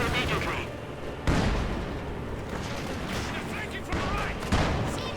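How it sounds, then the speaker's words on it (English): Mortar shells hitting a trench in Company of Heroes 2 produce loud, repeated explosions and crackling gunfire in a dense battle din, with a voice talking over it. "Mortar hitting the trench."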